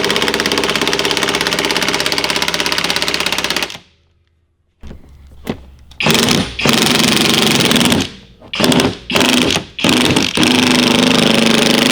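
A power drill drives the adjuster on coilovers being fitted to a Lexus LS400, whirring loudly in long bursts, stopping for a few seconds, then resuming in several short start-stop runs.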